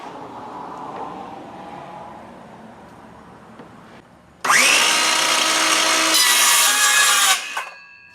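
A board being cut for use as an additional support for an Anycubic Chiron 3D printer: quiet handling and rubbing at first, then a loud, harsh power-tool cutting burst lasting about three seconds before it winds down.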